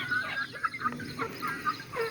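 Local free-range farm chickens clucking repeatedly in a busy flock, several birds calling over one another at close to moderate range with no talking.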